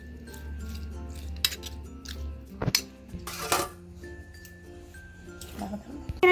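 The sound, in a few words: spoon mixing shrimp with salt and turmeric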